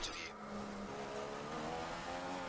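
A Formula 1 car in the racing game F1 2015 at the Malaysia circuit, pulling into the pits: a steady, mid-loud engine drone with a brief high whine at the start, continuous and without speech.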